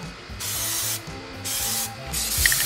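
Short bursts of a PlastiDip aerosol spray can hiss onto brake calipers, three sweeping passes separated by brief gaps, close and moderately loud.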